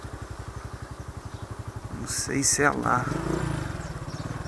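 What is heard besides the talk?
motorcycle being parked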